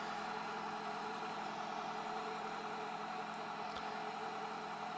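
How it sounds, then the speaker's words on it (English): A salvage car offered at an insurance auto auction idles steadily on its own, a continuous engine drone and vibration with no talk. "you can hear the engine running."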